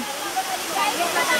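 Loud, rushing roar of a waterfall on a trek near Ratanmahal, a dense wash of falling water that swells slightly toward the end.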